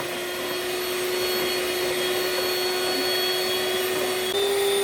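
An electric mixer beating cake batter gives off a constant high motor whine with a steady pitch, loud and close, shifting slightly near the end.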